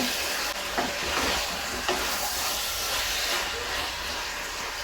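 Rohu fish curry with potatoes and flat beans is stirred in a pan as it simmers down. A steady, fairly soft steamy hiss fills the clip, broken by a couple of faint spatula knocks.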